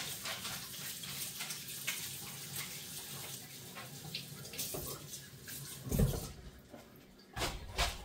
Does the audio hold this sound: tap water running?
yes